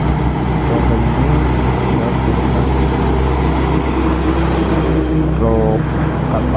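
A sand truck drives along a road, with a loud, steady low engine rumble and passing road noise, while someone talks over it.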